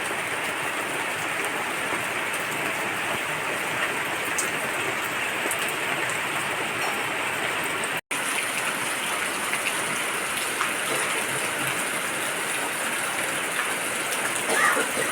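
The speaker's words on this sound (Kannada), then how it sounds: "ಮಳೆ ಜೋರು ಬೆಳಿಗ್ಗೆಯಿಂದ" Heavy cyclone rain pours down steadily in a village, a dense, even hiss of drops on surfaces that continues without letup.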